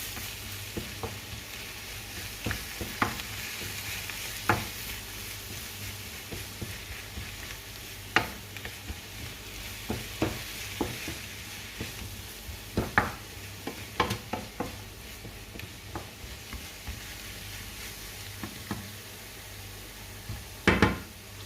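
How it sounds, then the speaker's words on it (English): Beans sizzle steadily in a pan, with a soft continuous fry broken by scattered sharp scrapes and clicks as a utensil stirs them, fairly quiet and without talk. "I'm going to continue to give it a stir, just to make sure everything mixes up properly"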